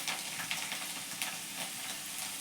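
Dried chillies sizzle in hot oil for a tempering alongside cumin and garlic, a soft, fairly faint crackling hiss with small popping bursts throughout and no talking.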